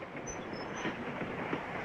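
Passenger train running on rails, a low, steady rumble of rolling wheels with faint clatter, heard from inside the carriage at a soft, distant level, without talk.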